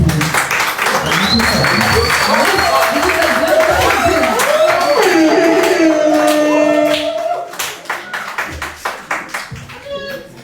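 Audience clapping at a press conference, loud and sustained for several seconds over voices and scattered whistles, then thinning into a few isolated claps.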